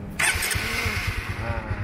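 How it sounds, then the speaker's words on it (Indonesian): A manual-clutch motorcycle engine cranks and catches with a loud burst, then settles into a steady, close, throbbing idle that runs to the end with no one talking. "Sekarang motor sudah hidup"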